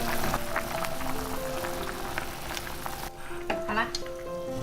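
A pot of razor clam soup with kelp and winter melon, seasoned with salt and pepper, bubbles hard on high heat with a dense, rain-like crackle and a few clinks of utensils, and no speech.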